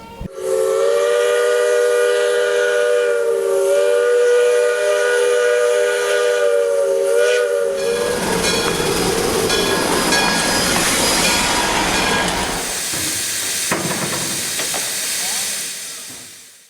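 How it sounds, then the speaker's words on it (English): A steam train's whistle blows long and loud for several seconds, then gives way to hissing steam and rumbling, clattering wheels as the train passes. "another steam train came from the southern part of the country"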